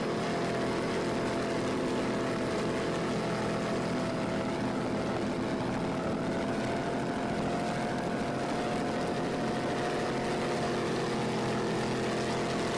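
The offshore racing powerboat Secret Squirrel running at the 2008 Battle on the Bay in Patchogue, NY, as a steady, dense engine roar that holds throughout, moderately distant, with no talk.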